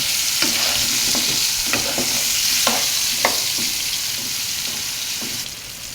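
Potatoes frying with salt and turmeric in a pan, a loud steady sizzle broken by repeated scraping stirs of the spoon at an irregular rhythm.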